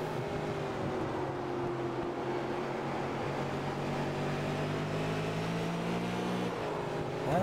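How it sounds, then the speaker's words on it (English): A loud super late model race car engine drones steadily throughout during qualifying, a constant roaring hum with shifting tones, close and unbroken. "We'll take a listen to the engine here."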